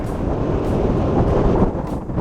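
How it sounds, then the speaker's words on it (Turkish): Strong wind in Rotterdam roars and buffets against the microphone in a continuous, loud rumble with no voices. "rüzgar başladı bir anda."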